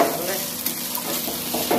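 Finely cut potatoes fry in a pan, browning, with a close, steady sizzle and soft stirring scrapes throughout; the burst is brief and no one speaks.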